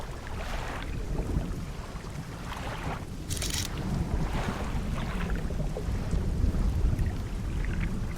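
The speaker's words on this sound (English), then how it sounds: "Where is that thunder coming from?" Heavy rain with deep rolling thunder in the fishing game Dredge, loud and continuous, swelling slightly toward the end with a short bright crackle partway through.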